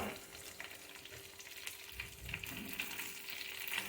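Okra and garlic fry in a pan with a steady, close, low-level sizzle and soft crackles, continuous throughout with occasional light stirring.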